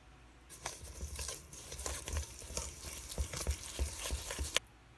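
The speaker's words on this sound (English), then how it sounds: "1 cup of dark brown sugar and 3/4 of a cup of oil going in to be whisked together" Whisk scraping and tapping steadily through dark brown sugar and oil in a large mixing bowl, close and moderately quiet, with a continuous wet stirring texture for about five seconds.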